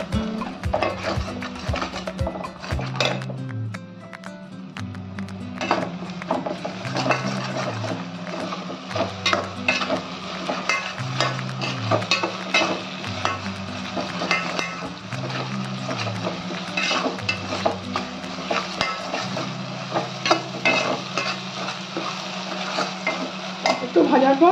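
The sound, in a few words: frying ginger-garlic-onion-chili paste with onions in a pan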